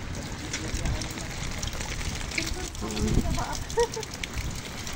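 Heavy rain during a typhoon roars steadily with a dense, crackling wash of noise, while people talk now and then underneath it.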